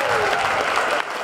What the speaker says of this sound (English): would you please give a warm round of applause for the CHS Concert Band